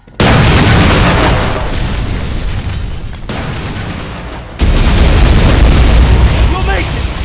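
Detonation in the Terminator Resistance video game, a loud sustained roaring blast that sets in abruptly and rumbles on, then a second heavy surge of low boom partway through, with voices mixed under the noise.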